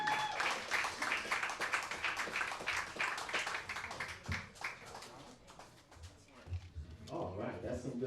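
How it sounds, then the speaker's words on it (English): Audience at a dive-bar comedy show claps and cheers in a steady, dense wash of applause, with a voice talking over it near the end. "Another round of applause for Miss Wild Joe"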